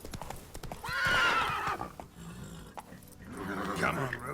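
Roach, a horse in The Witcher 3: Wild Hunt, trots along a path with clip-clop hooves, a loud whinny rising midway and another snort later, set against ambient game sounds.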